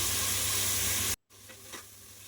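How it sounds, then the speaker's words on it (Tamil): Green chili, mint and coriander sizzle loudly in hot frying oil for a steady second, then the sound cuts out briefly and returns as a softer sizzle with light stirring. "இதையுமே நல்லா வந்து எண்ணெயில் வணக்கி விடணும்"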